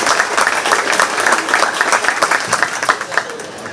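Spectators at a county fair 4-H/FFA goat show give the young exhibitors a loud, sustained round of applause, many hands clapping densely with some sharper claps standing out.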